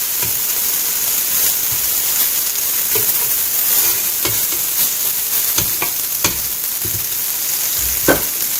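Rabbit pieces fry and brown in a hot pan, producing a loud, steady sizzle broken by sharp crackles and pops.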